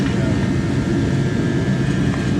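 A heater roaring in a workshop on a cold day, a steady, loud broadband rumble and whoosh filling the space at close range, with no talking.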